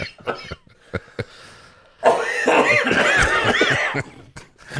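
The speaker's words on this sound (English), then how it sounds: "We're all coughing." Several sharp coughs and throat-clearing bursts, close by, with a stretch of laughing voices in the middle.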